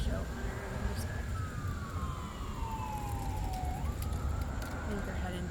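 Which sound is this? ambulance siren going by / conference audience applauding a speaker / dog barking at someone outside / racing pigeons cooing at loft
ambulance siren going by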